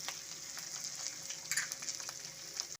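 Black cumin seeds, a dried red chili and grated ginger sizzle in oil left over from frying eggplant, a steady close, bright crackling fry with small spatter pops throughout and no voices.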